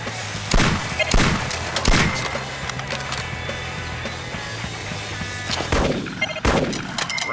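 Gunshots from the hunting video game Cabela's Monster Buck Hunter, set in Michigan: several loud sharp cracks spaced a second or so apart, some with echoing tails, over steady outdoor ambience.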